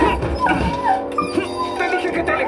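A guide dog, a small female, whimpers and yips in short, high, wavering cries mixed into a busy soundtrack with voices and music underneath.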